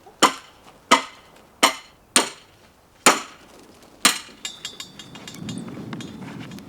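A hammer taps while a garden bed is being built in a greenhouse with rolled-up sides, six crisp strikes in an uneven rhythm followed by lighter clinks and soft rustling.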